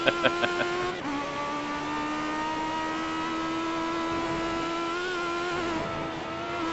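A race car engine drones at high revs as it crests a hill. A few quick ticks open the clip, then the note drops briefly and settles into a steady, close, sustained whine that wavers slightly as the load lightens.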